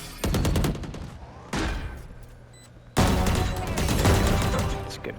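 Gunfire from the Valorant video game comes in rapid bursts: a short volley, a brief pause, another burst, then a longer sustained string of shots, all fairly faint.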